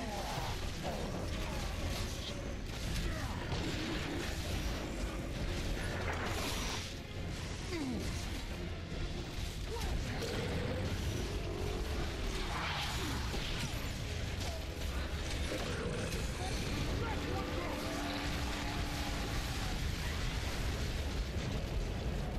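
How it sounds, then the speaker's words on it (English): Loud, dense rumbling blasts and crashing bursts fill the whole stretch, a continuous barrage of explosions and clattering effects in the video game Gears of War 3 with no quiet gaps. "That was a big explosion, my lord."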